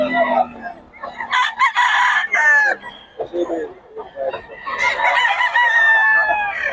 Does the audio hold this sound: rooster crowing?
yes